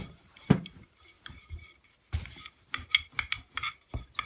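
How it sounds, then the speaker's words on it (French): A glass or cookie cutter is pressed and twisted through rolled dough, giving scattered soft scraping and rubbing sounds, with a few light clinks of glass on the work surface. No one speaks. "avec un verre ou un emporte-pièce, on va découper des ronds"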